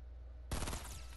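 Burst of gunfire in the Fortnite video game, a loud rapid volley of shots that erupts after a half second of near silence and keeps ringing for the rest of the moment.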